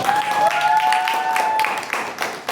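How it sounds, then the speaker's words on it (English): Steady applause from an audience fills the clip, a dense wash of clapping that holds for a few seconds and then starts to thin out. "a huge round of applause for our phenomenal"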